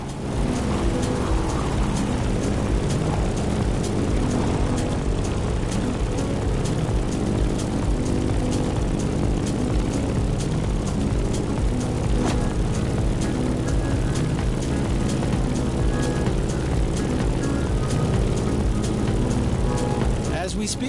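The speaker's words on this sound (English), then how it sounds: "In the cockpit of a stunning Grumman F-8F Bearcat, or simply the Bear." Grumman F8F Bearcat propeller plane flying in The Crew Motorfest, a loud continuous droning engine roar with steady pulsing propeller buzz throughout, while a person talks over it.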